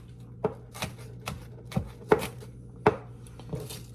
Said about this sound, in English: You want to chop those onions nice and fine.